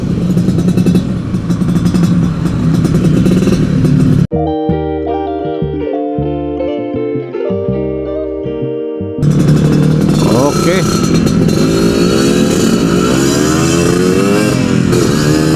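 A two-stroke Yamaha RXZ motorcycle buzzes and revs while riding, a loud rasping engine briefly giving way to a stretch of music before the engine noise returns.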